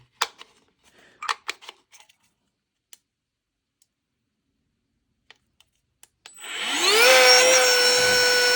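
After a few light handling clicks and taps, an Etenwolf compact air pump switches on in deflate mode, its motor whine rising quickly and then settling into a loud, steady drone, close up.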